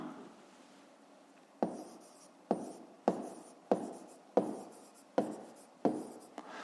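A pen scratches numbers into a notebook during a fifth-grade math exercise, a series of seven short, sharp strokes spaced at a fairly even rhythm, close and quiet against a soft hiss.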